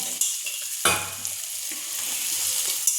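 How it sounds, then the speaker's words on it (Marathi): Onion and tomato sauté in hot oil in a pan for a jackfruit bhaji, giving a steady bright sizzle with a sharp stirring clank near the start and a few lighter scrapes, close and without talk. "आता हे थोडा वेळ 2 मिनटं परतून घेतल्यानंतर"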